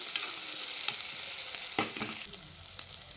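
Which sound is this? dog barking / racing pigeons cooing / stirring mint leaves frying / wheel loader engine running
stirring mint leaves frying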